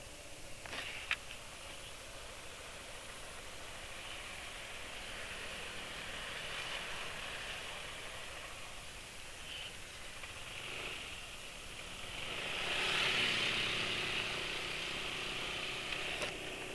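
Motorcycle engine idling steadily after an oil change to Evalube GEO 20W50, a continuous low hum and hiss with slight swells in level, no talking over it.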